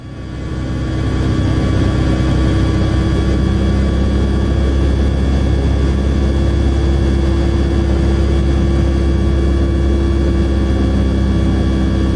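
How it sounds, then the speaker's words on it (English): A Cessna 172 light aircraft flying into a very strong headwind gives a steady, loud engine drone with a constant low rumble and broadband wind roar, unbroken for the whole stretch, with no talk. "This Cessna 172 appears to stand still mid-air because of a very strong headwind."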